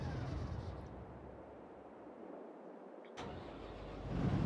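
A combine harvester engine idles in Farming Simulator 22 as a steady, low, fairly quiet rumble, with a single brief click partway through.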